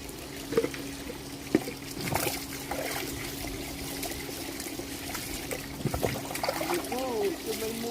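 Water trickles and pours over a small pet dog during a bath at home, splashing in uneven dribbles beneath a constant hum, while someone talks nearby.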